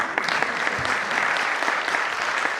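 Audience in a lecture hall clapping hands together, a dense, continuous round of applause for a few seconds with no talking.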